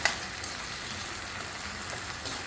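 Radish, potato and brinjal sautéing in a pan, a continuous close sizzle with soft stirring scrapes, small clicks at the start and end, and no voices.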